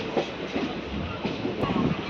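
The Tungabhadra Express rolls along between Kurnool and Secunderabad, its carriages giving off a steady rumble with soft clickety-clack wheel beats, heard from on board at moderate loudness.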